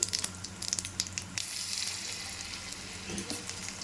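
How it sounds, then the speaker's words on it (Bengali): Cumin seeds and dried red chillies crackle in hot oil for a tempering, with a few quick spatter pops at first, then a soft continuous sizzle, close by and fairly quiet. "শুকনো লঙ্কা দিয়ে আমি জিরে ফোড়ন দিয়ে দিলাম"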